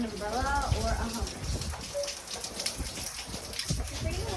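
Hurricane Hanna rain falling steadily outdoors near a barn and shed, a dense patter and splash of drops on surfaces, with people talking over it in the foreground.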